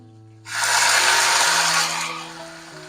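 Chopped cabbage dropped into hot oil with mustard seeds, urad dal, green chilli and curry leaves bursts into a loud, broad sizzle that swells suddenly, holds strong, then eases slightly as it settles.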